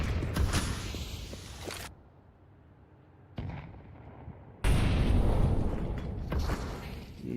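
In Counter-Strike 2, explosions and heavy gunfire burst out in loud, abrupt bangs with rumbling tails, separated by a quieter stretch of muffled in-game ambience.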